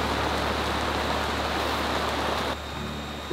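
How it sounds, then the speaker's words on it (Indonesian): Heavy rain pours down at a riverside campsite, a dense, steady hiss of drops hammering surfaces up close that eases slightly toward the end, with no talking. "Hujan deras."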